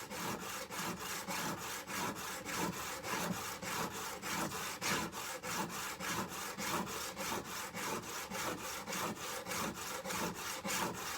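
A chisel is rubbed back and forth on a sharpening stone in a workshop, producing a quiet, steady rhythm of rasping strokes, evenly paced and close, with no talk.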